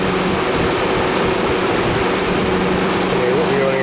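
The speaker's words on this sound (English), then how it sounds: "It's that sort of rattling noise you get, like something's loose in the top of the compressor." Steady mechanical running from a compressor with a loose, rattly character, as if the check valve were chattering, loud and continuous with a faint tonal whine rising near the end.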